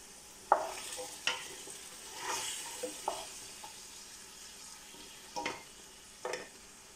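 Beef and carrots are stirred in a pot, a spoon scraping and knocking against the sides in scattered quiet strokes over a faint background, with no talking.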